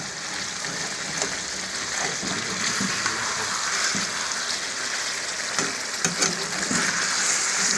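Fish curry cooks in a pan in a village-style kitchen, giving a steady, dense sizzle and bubbling that carries on without a break, close and fairly loud, with a few faint clinks.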